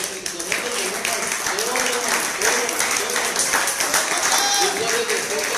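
A church congregation claps together in applause at a service, a dense continuous patter heard under a preacher's amplified voice that keeps speaking over it.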